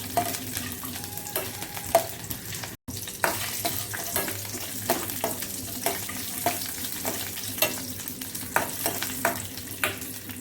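Cashew and almond pieces sizzle and fry in hot ghee while a spoon stirs them, steady close crackling with scraping stir strokes throughout, no talking.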